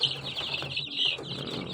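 Kuchinsky chicks in a coop keep up a steady, close chorus of high cheeping and peeping, with faint rustling and movement underneath.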